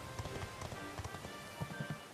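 Horse hoofbeats in the Dragon Quest XI video game: a quiet, steady clip-clop of hooves trotting along, with no voices, set against a soft noisy background.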